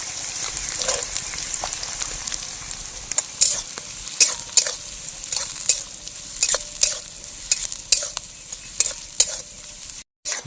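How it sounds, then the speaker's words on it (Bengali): Beans and carrots stir-fried in a pan for village-style fried rice give a steady close sizzle, punctuated by frequent sharp spatula scrapes and taps throughout. "বিনস আর গাজরটা সুন্দরভাবে ভাজা হয়ে গিয়েছে"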